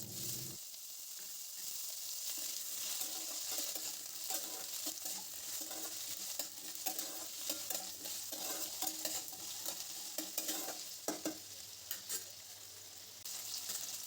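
Potatoes fry with cumin and radhuni seeds in a steady, fairly faint sizzle, with frequent soft scrapes and clinks from stirring throughout.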